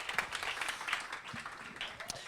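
A rally crowd claps and applauds for vice-presidential candidate Cheri Honkala, a dense spread of hand claps while a voice speaks over the applause.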